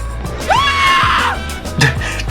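A loud scream rises and holds at a haunted motorcycle and car show, a sharp high wail lasting about a second, followed by a brief shorter cry amid crowd noise and background rumble.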